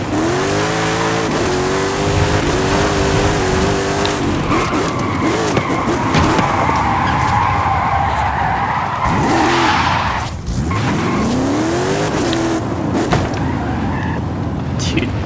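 A Toyota Supra skids in the video game Forza Horizon 5, tires squealing in long sweeping wails as the engine revs and rises, loud and close, with faint talk underneath.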